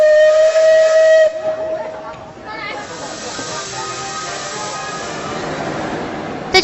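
Alishan Forest Railway No. 25 steam locomotive sounds its whistle at departure: a loud, steady sustained tone, then a long rush of hissing steam that carries on to the end.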